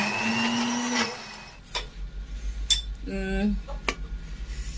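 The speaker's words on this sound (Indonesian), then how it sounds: "Lalu aku blender lagi ya." A blender whirs loudly for about a second blending a spice paste for gado-gado, followed by clinks of utensils and a brief second burst of the motor, with faint background noise.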